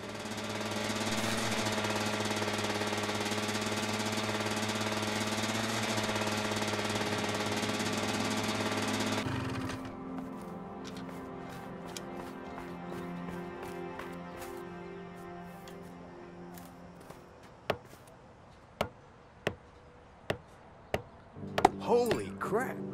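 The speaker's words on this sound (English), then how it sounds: "I think I'm gonna need a hammer." Hammering to fix a sign in the video game A Way Out: after a droning hum cuts off, a series of sharp, evenly spaced knocks builds up near the end, with faint background sound throughout.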